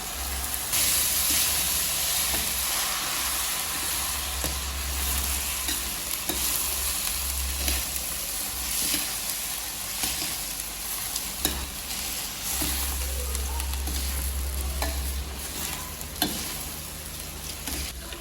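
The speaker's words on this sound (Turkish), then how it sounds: "Biz pirinci de bir 3-4 dakika kadar kavuruyoruz" Rice being toasted in a pot with onion, stirred steadily for several minutes for a home workplace meal; a continuous close sizzle and hiss with frequent scraping spoon strokes, no talking.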